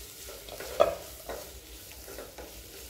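Onion sautés in a pan, with a soft, steady sizzle and a few scraping stirs, one sharper scrape standing out, quiet and without talk.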